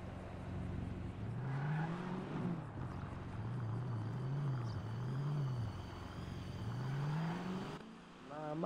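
A car engine in the GTA RP roleplay game hums steadily with rising and falling revs as the vehicle drives off, continuous and fairly loud with faint background sounds.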